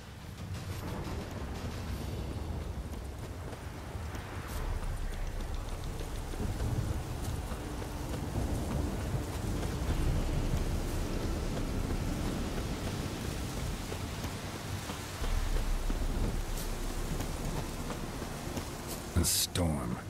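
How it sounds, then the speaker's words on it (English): Rainstorm in The Witcher 3 game world, with steady heavy rain hiss and low rumbling thunder swells, and someone talking over it now and then. "A storm, damn it."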